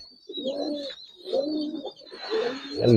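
Giribaz pigeons coo up close in three rolling, throaty phrases, each swelling and fading in turn with short gaps between, and nobody talks.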